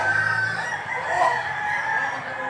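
Chickens sold at a Filipino poultry market, including yellow-legged birds, make throaty clucking and crowing-like calls that carry continuously at moderate loudness for a few seconds, with no talk over them.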